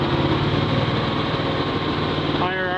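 A Miller Legend 302 welder engine runs steadily at idle, then near the end its pitch climbs as it picks up to higher RPM, close and loud throughout.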